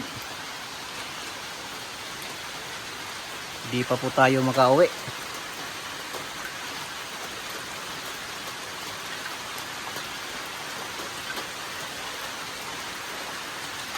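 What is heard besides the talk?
rain falling on farm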